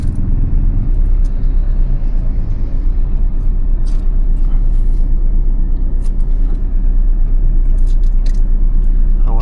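A car drives along a highway near Vallam in Villupuram district, Tamil Nadu, in second gear, giving a loud, constant low engine and road rumble with faint ticks and clicks over it.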